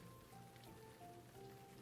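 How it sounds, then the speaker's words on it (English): Steady rain falling on a surface, a soft continuous patter at low level with no voices, spread evenly across the whole stretch. "It's the rain."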